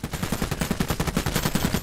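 Rapid gunfire in the strategy video game Iron Harvest, a fast, even rattle of machine-gun shots continuing throughout, loud and unbroken, with no voices over it.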